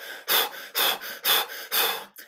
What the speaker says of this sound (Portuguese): Focar na exalação, fazer uma respiração, sobretudo bucal,